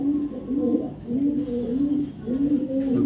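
A male pigeon of the Stephen Donkus line coos close by, several repeated low throaty phrases rolling in a steady rhythm with brief pauses, with no voices present.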